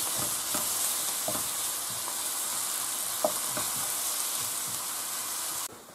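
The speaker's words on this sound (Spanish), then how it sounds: "se echa la cebolla y se tiene que rehogar." Onion sautés in hot oil in a pan with a steady, even sizzle and several light scrapes of stirring, close up, before the sound cuts down abruptly at the end.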